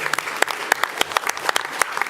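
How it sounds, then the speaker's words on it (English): A round of applause from an audience at a school board meeting, brisk overlapping clapping from a modest crowd, fairly close and steady throughout the short stretch. "Give her a round of applause."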